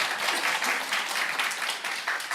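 Clapping from a Korean church congregation during a Sunday service, honoring a deacon who cleared overgrown grass around the church; a brief, dense, even round of many hands, alone without talk.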